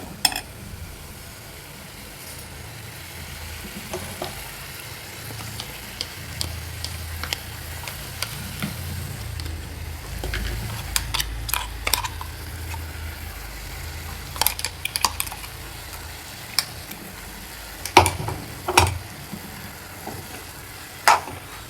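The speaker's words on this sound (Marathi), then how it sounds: "आता मी यात घालते वाटण." Ground wet masala paste sizzles and fries in a hot pan while a spoon stirs and scrapes it, with intermittent sharp clicks and taps against the pan over a continuous crackle at close range.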